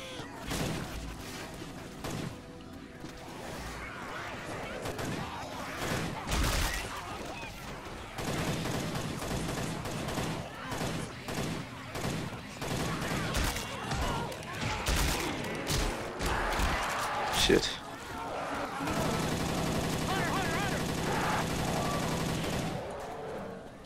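Rapid gunfire bursts from the Left 4 Dead 2 video game, played with a Silent Hill mod, with repeated loud volleys and booms in an irregular rhythm.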